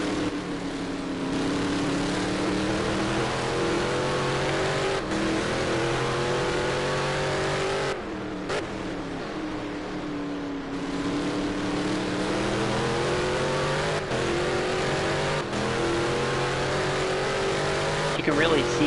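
A race car at the Catalunya circuit revs hard through corners, its engine note rising and falling steadily with brief breaks, while a commentator talks over it.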